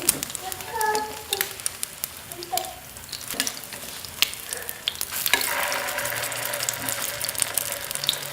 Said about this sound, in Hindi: इसको अब हम फ्राई करेंगे। पहले एक साइड पे अच्छी तरह से करेंगे, फिर दूसरी साइड करेंगे।